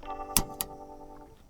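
A camping stove igniter gives two sharp clicks in quick succession over a faint steady hum, crisp and close.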